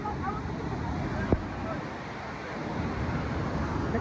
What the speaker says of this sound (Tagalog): That's the falls, guys.